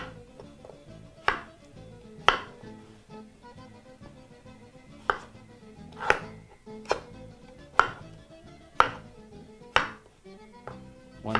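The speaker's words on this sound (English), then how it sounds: "begin by chopping that up into about 1-inch cubes" Boiled potatoes chopped into roughly one-inch cubes for Kenyan mukimo: about ten crisp knife strikes against a cutting board, spaced irregularly about a second apart, close and clear with no talking.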